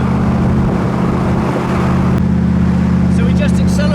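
A Rover 3.5 litre V8 in a Cobra kit car pulls hard under acceleration, with a steady, loud engine drone close to the microphone and a voice speaking over it near the end.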